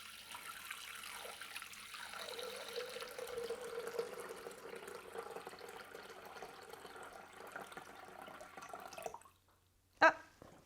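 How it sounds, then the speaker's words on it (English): A liter of water pouring steadily into a mixing bowl, a soft continuous trickle that runs for several seconds before stopping, followed by a brief sharp knock in an otherwise quiet kitchen. "we're going to place a liter of water into the mixing bowl."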